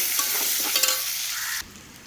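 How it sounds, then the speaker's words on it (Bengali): Potato pieces fry in hot oil with a steady, close hiss and crackle, a few sharper pops near the middle, before the sizzle drops abruptly to a quieter hiss. "তেলটা গরম হয়ে গেছে, আলুটা ছেড়ে দিচ্ছি।"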